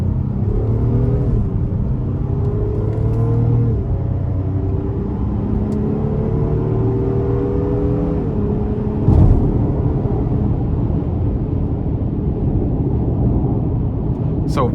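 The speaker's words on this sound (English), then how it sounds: "we're gonna go ahead and just give it a punch getting on the interstate here" A 2025 Honda Pilot Sport with its 3.5 V6 pulls hard in sport mode onto an interstate, engine note rising through several gear steps under steady cabin road rumble, with someone talking over it.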